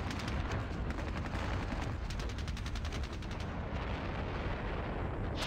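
Heavy gunfire and battle noise in the Squad Battles Red Victory war game at Ponyri: a dense, constant roar of shooting and explosions with rapid bursts rippling through it, loud with no breaks.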